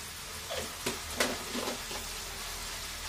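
Tomato curry sizzling in a pan on high heat just after chilli powder goes in, a steady close frying hiss with soft stirring scrapes and a sharper burst at the end.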